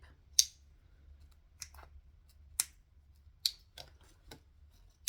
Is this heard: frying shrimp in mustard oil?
no